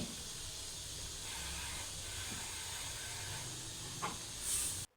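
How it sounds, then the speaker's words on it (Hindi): Yogurt spooned into a sizzling Peshawari-style chicken karahi made with tomatoes over the flame, giving a soft, steady hiss of sizzling that stays quiet and even before cutting off at the end. "अब हम इसमें दही ऐड कर देंगे"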